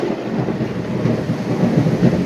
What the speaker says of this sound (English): We've had some thunder and lightning